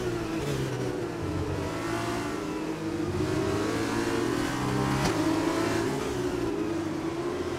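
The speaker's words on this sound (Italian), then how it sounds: "Qua lo devi tritare il motore." A Formula 2 race car engine in the racing game F1 2020 screams at high revs, climbing and dropping through the gears, loud and continuous throughout.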